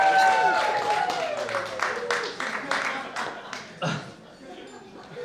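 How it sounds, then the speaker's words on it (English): At a wedding reception, guests clap for the bridesmaids in a loud burst that thins to scattered claps, with talk and laughter mixed in as it fades. "round of applause to the bridesmaids"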